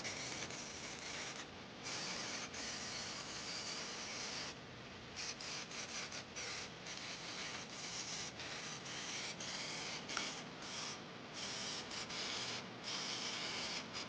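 Spray gun laying a pearl coat onto a crashed BMW X5 M50i being rebuilt, a steady loud broadband hiss running throughout with brief gaps where the trigger releases between passes.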